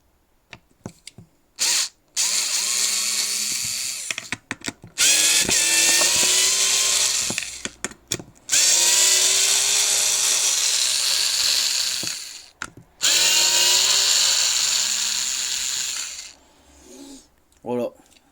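A Teccpo cordless screwdriver drill set to screwdriver mode unscrews hinge screws in several loud whirring bursts of a few seconds each, with short pauses and small clicks between them.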